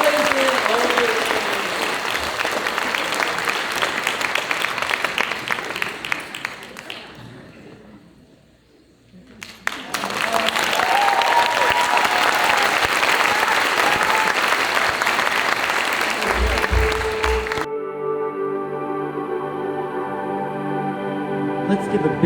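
Audience applause at a live channeling event, two long bursts of dense clapping separated by a brief lull, followed by a quieter stretch of music.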